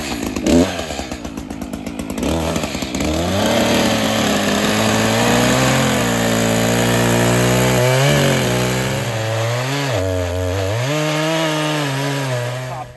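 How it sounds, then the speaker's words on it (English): A chainsaw trims a giant sugar maple log before milling. The engine roars loud and close, and its pitch rises and falls as the cut bogs down and revs back up. "So we are going to fire up the bobcat and the chainsaw."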